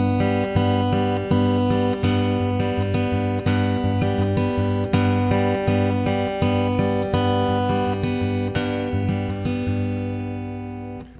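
Fingerpicked pattern on acoustic guitar, played slowly and steadily with thumb and fingers, repeating plucked notes ringing closely for about eleven seconds with no talking.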